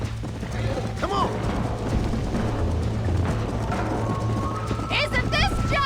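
Horse hooves clip-clop at a riding pace in Red Dead Redemption, rhythmic hoofbeats with tack and gear rattles under occasional speech and ambient game sounds.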